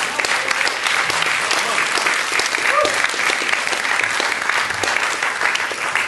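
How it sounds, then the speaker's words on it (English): Church congregation breaks into loud, sustained applause during a sermon, a dense wash of clapping filling the room steadily for the whole stretch with no voices over it. "you should give God a round of applause"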